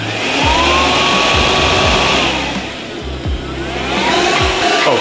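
Portable vacuum cleaner cleaning carpets inside a van, a loud close whining motor with pitch shifts as the nozzle moves, punctuated by thumps and scraping bumps against the floor.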